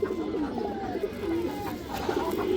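A pet home-loft pigeon gives repeated low throaty coos in a steady rolling pattern, close by, over a continuous hum of ambient noise with no clear talking.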